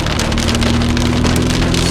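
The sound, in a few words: rain falling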